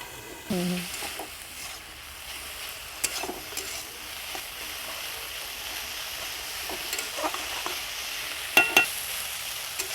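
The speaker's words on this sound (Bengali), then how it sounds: "এইভাবে ঢাকা দিয়ে দিয়ে ভেজে নিতে হবে।" Cauliflower florets fry in oil in a covered pan, giving a steady, close sizzle throughout with a few brief knocks and stirring clatters.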